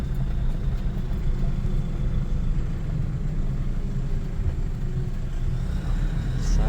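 A high Fuso 4x4 truck rolls along an overgrown rainforest track, giving a continuous low engine rumble from inside the cab with no talk.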